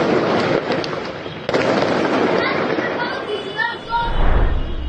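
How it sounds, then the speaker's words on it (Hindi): Fireworks and firecrackers burst over Beirut, a dense continuous crackle and popping with a sharp louder bang partway through, distant whistles and a deep rumble near the end, with faint voices in the background. "लेबनान में अलग तरह से पटाखे फोड़े जा रहे हैं। बैरूत में देखिए"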